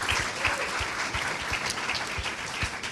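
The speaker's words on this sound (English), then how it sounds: "Can everyone please give them a round of applause?" A small group claps at the end of a career conversation gathering, a fairly quiet, steady patter of hands with some sharper individual claps standing out, lasting about three seconds.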